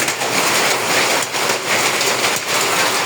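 A loud, continuous downpour of large hailstones and rain drums on a roof in Ashulia, Bangladesh, steady and dense with occasional stronger impacts.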